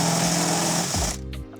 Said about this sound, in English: So let's drill out the rivets.